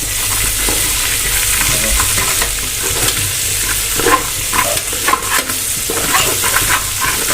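Chicken haleem ingredients with salt, cumin and pepper are stirred in a hot pan, giving continuous close sizzling with scraping and clinking stir strokes throughout.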